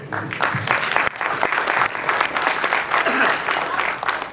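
An audience claps continuously at a Kannada film's audio launch event, a dense, steady applause filling the hall with voices mixed in.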